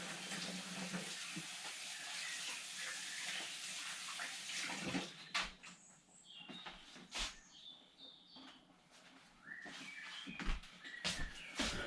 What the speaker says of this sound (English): let me wash my hands real quick so that everything's nice and ready to go